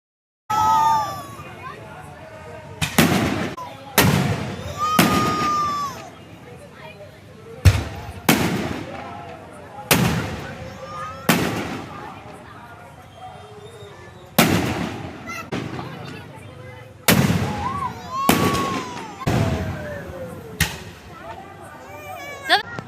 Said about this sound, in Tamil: திட்டத்தட்ட ஒரு 1/2 hour 1 hour கிட்ட வந்து வெடி வந்து வெடிக்குங்க.